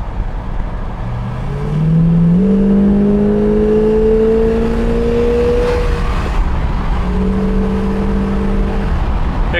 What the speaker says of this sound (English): Relatively quiet car, and I'll show you the 440.